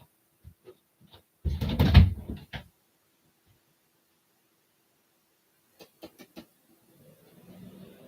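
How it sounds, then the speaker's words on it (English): A door on a cold house pushed shut with a solid thump and a short rattle, followed by a few faint clicks and light knocks in an otherwise quiet room. "So now I can close the door and not be freezing."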